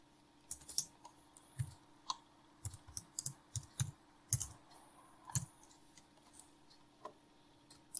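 Keys clatter on a computer keyboard as a headline is typed for a book cover design, a run of quick, light clicks in irregular bursts, close and fairly quiet, with no talking.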